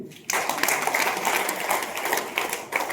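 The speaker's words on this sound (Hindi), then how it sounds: "तालियां बजाएंगे" An audience claps for the chief guest, Nand Singh, at an RCM gathering. Dense, steady applause starts abruptly after a brief pause and carries on, fairly loud and continuous, to the end.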